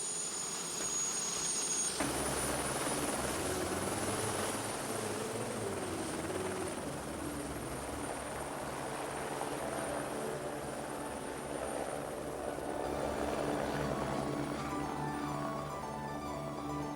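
A helicopter flies close by, its engine and rotor making a steady, loud droning whirr that continues without a break.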